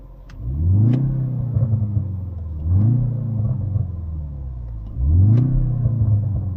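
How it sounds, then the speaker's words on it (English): A 2026 BMW X1 M35i engine in sport mode revs up sharply three times, each rise falling back to a rumbling idle, loud and close with no talking. "Idles rev up, and I'll give it a low rev for you guys."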